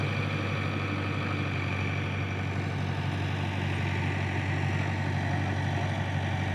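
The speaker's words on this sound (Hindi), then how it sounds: "एक पावर ट्रैक 39 यहाँ पे खड़ा है" A Powertrac 39 tractor stands idling at a site where soil is being loaded, its engine giving a steady, even low throb that is close and constant, with no voices.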